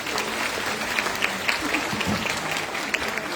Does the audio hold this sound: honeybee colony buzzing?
no